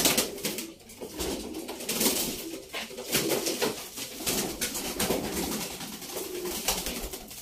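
Several pigeons coo softly and repeatedly, close by, with rustling and fluttering throughout.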